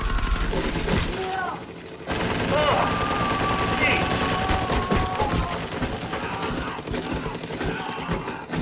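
Rapid bursts of automatic gunfire fill a scene from the action film The Raid: Redemption, loud dense volleys that break off briefly and then resume, with voices faintly mixed in.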